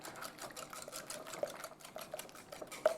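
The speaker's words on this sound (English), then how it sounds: "Just whisk this together." An egg and other wet muffin ingredients are whisked by hand in a bowl, giving a soft, steady, rapid scraping and ticking with occasional sharper clinks against the side, quiet and close, with no talking.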